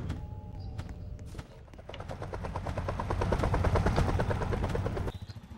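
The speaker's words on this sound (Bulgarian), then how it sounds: "Хеликоптера дойде при мен." In a Roblox game a helicopter draws nearer, its rapid rotor thump growing steadily louder over several seconds before easing off at the end, with a few clicks and creaks at the start.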